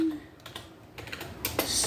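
A short run of keystrokes on a computer keyboard, rapid and fairly close, tapping out a note over a steady background hiss and louder in the final half-second.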